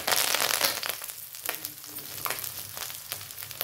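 Jowar flakes and grated coconut roast in a hot pan, a close, steady dry sizzle broken by scraping stirs every second or so, with no voices.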